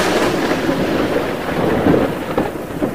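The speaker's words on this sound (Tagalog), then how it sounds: "may isang malakas na bagyo na pumasok sa bayan" Heavy thunderstorm with steady pouring rain and rolling thunder, a dense, loud wash of noise that continues without pause and cuts off abruptly at the end.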